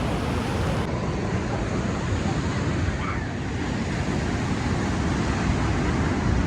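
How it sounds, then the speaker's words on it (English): Sea waves surging onto a windy shore at Stalis, Crete, during an October storm, a loud continuous roar of surf with heavy wind buffeting the microphone throughout. "It's a wee bit windy, but the sea sounds great."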